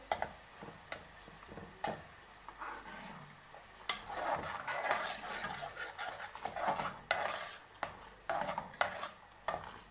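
Brain masala with green chillies frying in a pan, a low sizzle under repeated sharp taps and scrapes of a spatula against the metal, close and without voices.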